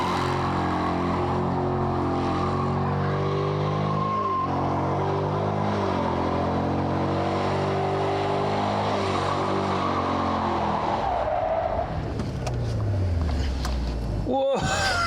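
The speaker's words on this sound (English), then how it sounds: "could you do a few burnouts for us?" A Dodge Challenger doing burnouts: a loud, sustained engine roar with shifting harmonics over continuous tyre and exhaust noise for most of the stretch, easing off toward the end, with voices faintly present.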